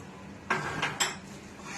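Chopped onion tipped into a pan of simmering fish curry masala, two sharp clinks of a utensil against the metal pan about half a second apart over a low kitchen background, no voices.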